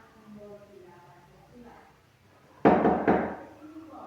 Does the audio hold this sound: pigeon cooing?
no